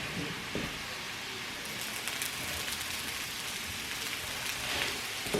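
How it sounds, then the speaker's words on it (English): Chopped onion and jalapeño with a clove of garlic sautéing in turkey bacon fat, a steady soft broadband sizzle close by with a few faint pops and no talking. "I'm going to saute that in the turkey bacon fat and a big clove of garlic."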